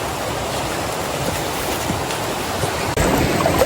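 A river rushes at a crossing on a mountain trail in the Philippines, a loud, steady broadband roar of flowing water heard close and alone.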